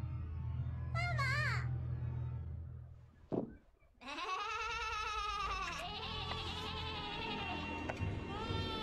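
A goat bleats in a film, several wavering, nasal cries near the start, then a long loud quavering bleat that fills the second half, over a low background hum.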